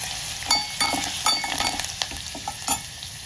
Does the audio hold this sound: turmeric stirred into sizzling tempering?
yes